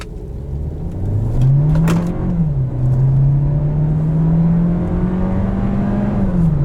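A 2020 Volkswagen Jetta SEL engine revs up steadily from inside the cabin, the pitch climbing, dropping briefly as the automatic transmission upshifts, then rising again in a smooth, continuous drone.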